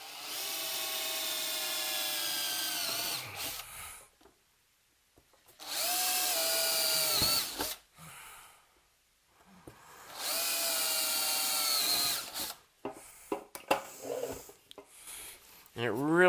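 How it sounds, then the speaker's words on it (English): A power drill pilot-drills holes through a metal phono preamp chassis with wood underneath, running in three long whining bursts separated by quiet pauses and short clicks of handling. "next we come in with a drill and we pilot drill all these holes"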